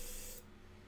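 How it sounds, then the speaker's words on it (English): A short burst of airbrush hiss as water is sprayed through to flush out paint when changing colors, cutting off abruptly partway through, with faint background hum after. "just spray water out of the squeeze tube."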